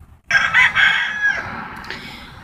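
A backyard rooster crows once, loud and close, a long strained call that trails off gradually, with no voices over it.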